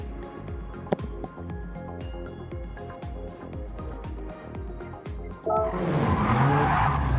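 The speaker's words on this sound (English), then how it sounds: "He's just doing burnouts again." A revving race car engine pulses rhythmically during burnouts at Deep Forest Raceway in an RXGT Sprint Series race, then breaks into a loud, sustained tire squeal as the wheels spin up.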